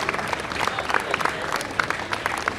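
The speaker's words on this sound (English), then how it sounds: "Let's clap it up for them." A crowd at an outdoor Brooklyn Day recreation celebration at Pier 2, Brooklyn Bridge Park, applauds the Brooklyn Nets dancers with steady, dense clapping that holds at an even level and has a few faint voices mixed in.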